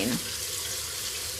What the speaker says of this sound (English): So then I rinse really well, even though it's just in salt and water.